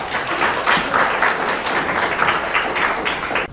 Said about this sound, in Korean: 힘찬 박수로 맞이해 주시기 바랍니다.